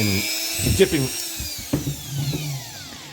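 Grinder motor running with its bit dipped in old candle wax while working on an M90 supercharged Crown Victoria, heard as a steady whine that slowly drops in pitch as it spins down, under someone talking.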